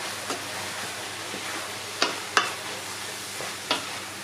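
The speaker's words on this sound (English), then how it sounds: "stir in the stock powder a bit" Stock powder being stirred into a pot of beef stew, a steady soft sizzle under a few sharp scrapes and clinks of the spoon against the pot, with no talk.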